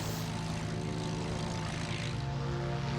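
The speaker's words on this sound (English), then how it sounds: "Spitfire could now fly again" A Mark 1 Supermarine Spitfire flies with a steady, loud propeller-engine drone. It holds a constant pitch throughout with no voices.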